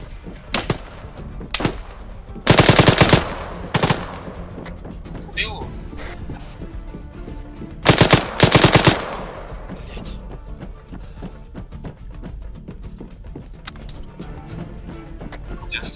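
Machine gun fire in Arma 3 during an ambush: short, loud bursts crack out in separate volleys, one early pair and another a few seconds later, among scattered distant shots while players talk over the action.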